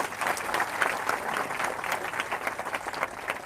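Audience applause at a political speech gathering, a steady burst of many hands clapping together, moderately loud and sustained throughout without talk over it.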